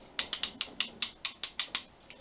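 Ratchet of a Möller socket wrench set clicking about ten times in an uneven run, each click crisp, metallic and close, with quiet gaps between and no other sound.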